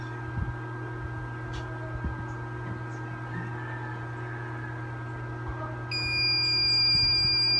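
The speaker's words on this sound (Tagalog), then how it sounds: "Okay, nag-alarm na." A timer alarm goes off near the end as a sudden high electronic beeping over a steady machine hum, following several seconds of low background drone.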